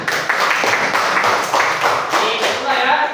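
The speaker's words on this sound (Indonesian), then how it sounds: "kita kasih tepuk tangan" A classroom group claps together in a steady burst of dense hand claps lasting about three seconds, fairly close and loud with no talking over it.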